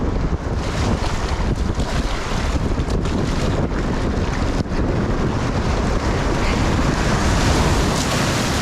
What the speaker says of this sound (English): We're going to catch a little bit of the rapid, but we're also going to use the river current to our advantage.